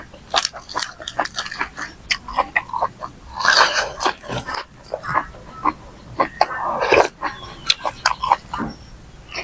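Someone chews large blanched blood cockle meat dipped in spicy sauce close to the microphone, with a series of irregular crunchy, wet bites and mouth noises separated by short pauses.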